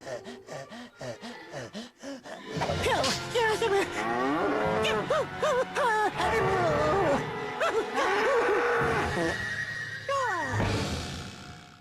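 A cartoonish cow moos repeatedly in the racing game Crash Tag Team Racing, with long, loud, warbling bellows layered over game music and effects while a voice talks.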